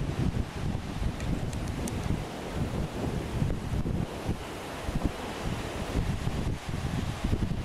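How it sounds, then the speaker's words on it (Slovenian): Strong wind buffets the microphone on a beach beside the Pacific Ocean in Australia, with a steady low roar and gusts and surf washing in beneath it, unbroken for the whole stretch with no voices. "Kar fino vetrovno je tle"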